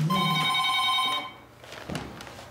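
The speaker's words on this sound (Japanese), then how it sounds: "電話が鳴りました" Telephone bell rings in steady repeated trills for about a second, then stops, followed by faint rustling; the setting is a senior advice hotline office in Fukuoka, Japan.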